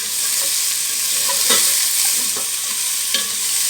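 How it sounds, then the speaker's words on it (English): Vegetables tossed into hot oil in a pan sizzle loudly and continuously, a bright hissing fry with occasional pops and stirring scrapes, close and steady throughout. "your oil is nice and hot now. You want to just wang your veg in. Oh, yeah, that sizzle."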